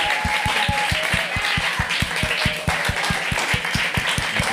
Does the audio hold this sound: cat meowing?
no